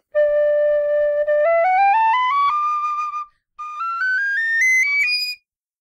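A carbon fiber whistle plays two rising scales, clear bright notes stepping upward, with a short pause between the runs; close and loud.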